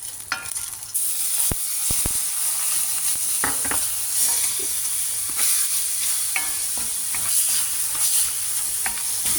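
Peanuts and gram flour mixed with salt, turmeric and chilli powder are stirred in a hot pan, a steady sizzle with scraping strokes and occasional sharp clinks of the spoon, continuous and close throughout.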